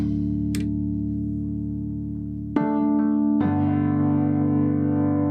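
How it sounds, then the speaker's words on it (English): Layered electric piano and upright piano chords sustain and blend, soft and full, with two fresh chords struck near the middle; no voices. "Here's what it sounds like layered with an upright piano."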